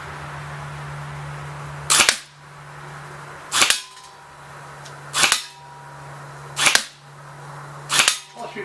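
A Bolt B4A1 BRSS blowback airsoft rifle with recoil fired at targets outdoors: five sharp single shots, each with a snappy bolt clack, spaced about one and a half seconds apart over a low steady hum.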